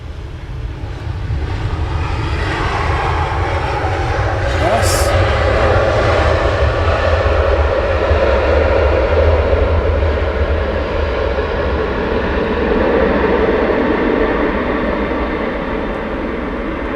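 A fixed-wing aircraft comes in to land at Luton Airport in the early morning, its engine roar loud, broad and sustained throughout, rising slightly as it passes close.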